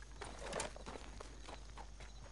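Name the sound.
horse hooves walking in Red Dead Online video game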